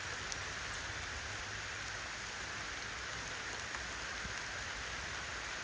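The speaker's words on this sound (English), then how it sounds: "It just started raining." Steady rain falls outdoors beside a road, an even, dense hiss of drops with scattered small ticks, constant and moderately loud throughout, with no voices.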